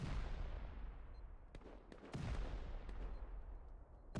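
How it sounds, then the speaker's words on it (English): C4 charges blow doors during a Rust 4v4 base-raid tournament match, a rolling wash of heavy booms with several sharp blasts cracking out over sustained low rumble. "C4 everywhere now."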